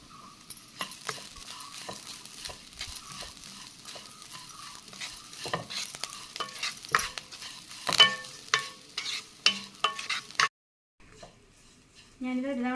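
Coconut and curry leaves go into a hot frying pan for a Tamil Nadu ash gourd mor kuzhambu, giving a steady close sizzle with stirring scrapes and clinks, then a brief pause before a fresh burst of frying.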